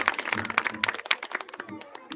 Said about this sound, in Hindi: एक बार जोरदार तालियों का स्वागत कीजिए।